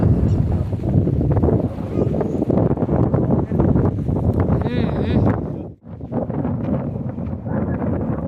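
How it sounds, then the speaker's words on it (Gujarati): Steady wind buffets the microphone in broad, rumbling gusts, with a brief lull near the end before the blustery noise resumes. "પવન આવી રહ્યો છે"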